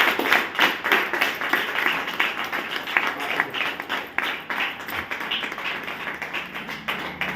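Dense, continuous audience applause fills a seminar hall during a DXN business talk, many hands clapping in a rapid, steady patter for several seconds without pause.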